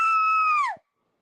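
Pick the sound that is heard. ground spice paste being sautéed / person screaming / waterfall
person screaming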